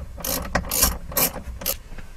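A hand ratchet clicks in short bursts while gauges are installed in a 2013 Subaru STi, with four or five quick, close, crisp pawl rattles separated by brief pauses.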